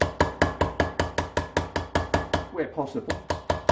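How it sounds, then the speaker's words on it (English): The flat face of a hammer taps rapidly around the outer edge of an engine gasket, a fast even series of sharp close strikes, briefly interrupted while a voice speaks before the tapping resumes. "you use the flat of the hammer"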